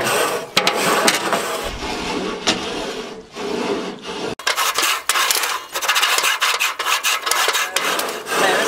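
A grill cleaning tool with a wooden scraper rubs back and forth over BBQ grill grates, loud rasping strokes repeating in quick rhythm with a brief pause midway.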